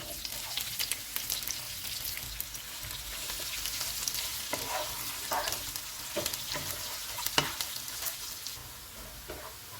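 Onions fry golden in hot oil with a dense, steady sizzle and crackle, close by, punctuated by occasional scraping stirs.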